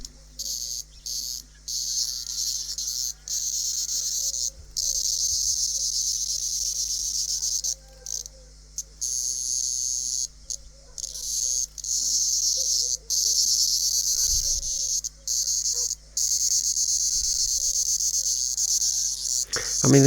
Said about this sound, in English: these cicadas, when they drop out the sky, they're dying anyway